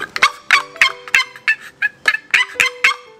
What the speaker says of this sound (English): Let me see your turkey call.